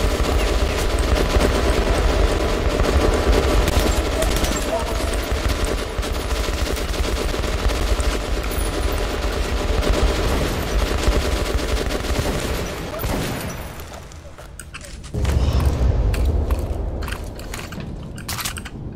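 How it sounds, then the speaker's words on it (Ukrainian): Sustained loud automatic gunfire from a machine gun in the post-apocalyptic shooter Metro: Last Light fills most of the stretch, with dense rapid bursts, a brief lull near the end, then renewed shooting. "Це якийсь, блін, кулемет чи що?"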